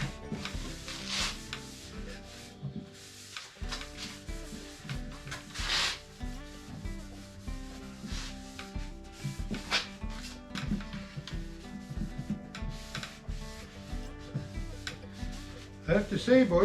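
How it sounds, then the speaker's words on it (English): Shop towel soaked in paint thinner rubbed over a freshly sanded wooden chair frame, a steady close scrubbing and wiping with repeated rough strokes, over a faint musical background. "this is just paint thinner and just a shop towel. I just want to wipe it down,"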